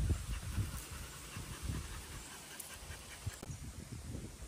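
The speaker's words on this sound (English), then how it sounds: "we were warmly greeted by three gentle and curious dogs, eagerly coming over to check us out." Dogs greeting visitors at a Thai temple pant in quick, soft rhythmic bursts close by, over a faint hissing background with no speech.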